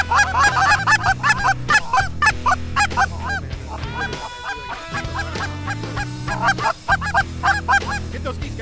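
Canada geese honk loudly and steadily at close range, a dense chorus of overlapping calls during a hunt in Saskatchewan, with low rumbling wind underneath.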